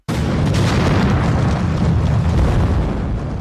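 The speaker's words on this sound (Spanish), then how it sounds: "Pequeña explosión." A loud, sustained boom rumbles through an explosion effect in a Russian nuclear submarine disaster documentary, a dense roar that holds at full strength for several seconds.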